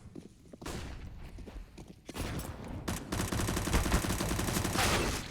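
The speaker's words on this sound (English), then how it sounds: "Blame with his deagle, opening the round up" Desert Eagle pistol gunfire in a CS:GO match on the Mirage map, with a few sharp shots early on followed by a denser burst of overlapping rapid gunfire that carries on loudly to the end.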